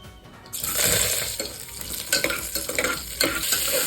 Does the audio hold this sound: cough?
no